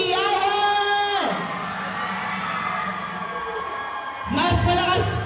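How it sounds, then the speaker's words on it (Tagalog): A large school crowd at an intramurals awarding and student government proclamation roars with loud cheering, whooping and high-pitched screaming, fading briefly before surging again. "Parinig mo na isang malakas na hiyawan!"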